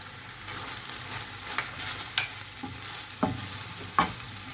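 Tomatoes, tomato paste and spices sauté in a pan with a quiet sizzle, broken by a few soft stirring scrapes and taps from a utensil.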